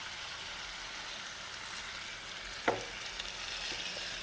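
A soft, steady sizzle rises from a beetroot curry pan as blended curd goes in, with a single brief clunk of a spoon partway through; no talking.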